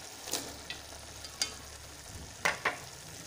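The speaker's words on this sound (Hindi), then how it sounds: "अभी इसमें डाल देती हूँ मटर" Peas go into a cooking pot, where soft background sizzling runs under a handful of sharp clinks and scrapes from stirring or utensils against the pot.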